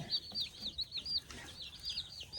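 Young chicks under a brooder plate give a run of high, repeated peeping chirps at close range, with a soft background hum and no talking.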